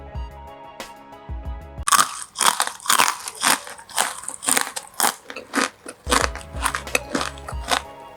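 Crisp, crunchy bites into fried untir-untir, a twisted Indonesian dough snack made without egg or coconut milk, heard as a loud run of sharp crunches with chewing in between after a short pause, close to the mic.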